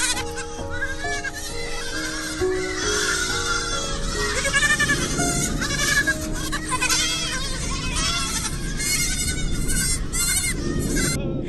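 Feral goats in Australia bleat repeatedly over a constant bed of loud background music, their wavering calls overlapping throughout.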